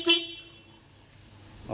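A 1990 white Suzuki Jimny gives one short, bright honk of its horn close by, followed by a quiet pause and a faint click.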